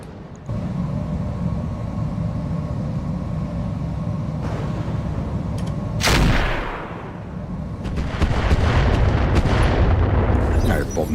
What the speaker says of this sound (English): Alright, both missile volleys hit.